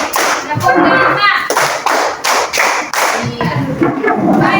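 Students in a classroom coding lesson clap together in a counted pattern, loud bursts of claps separated by short pauses, with a teacher's voice and children's voices mixed in.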